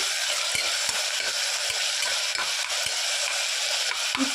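Tomato pieces frying and being stirred in a pan for homemade khichdi, a steady close sizzle with soft periodic scrapes and knocks of the spoon, no talk over it.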